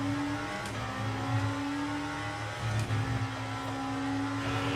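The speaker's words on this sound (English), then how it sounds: "You can hear that car bouncing off the rev limiter like it's a World Rally spec Orica." Race car in Le Mans Ultimate held in third gear, its engine droning at a high steady pitch and repeatedly stuttering against the rev limiter, loud and close with no talk.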